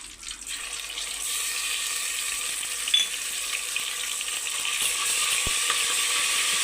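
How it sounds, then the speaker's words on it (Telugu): Ginger garlic masala frying in a pan for dhaba-style moong dal, giving a steady, close hiss of sizzling oil that continues without break and with no talk. "ఇప్పుడు ఇందులోకి అల్లం వెల్లుల్లి మసాలా వేసుకుందాం."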